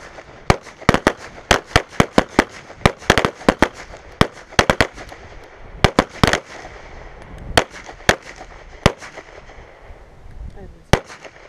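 Pistol shots ring out from several shooters at a defensive pistol range, sharp and loud, some in quick clusters and others spaced a second or more apart, with faint range noise between them.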